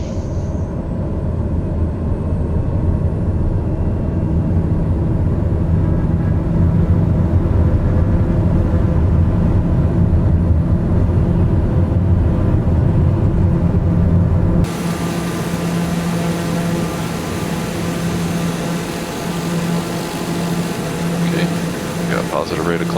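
Steady loud drone of a small airplane in flight with flaps extended on approach to Lukla, a continuous engine and airflow roar that shifts in tone partway through.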